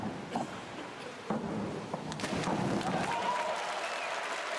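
Crowd applause at a World Series diving competition in Russia after a dive in the final round, a steady roar of clapping that swells and holds through the clip.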